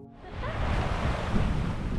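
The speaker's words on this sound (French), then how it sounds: "Sur la plage du village de Tehupo, il y a une petite vague qui déroule" Small waves roll and break on the beach at Tehupo village in Tahiti, a steady wash of surf with wind noise over the microphone.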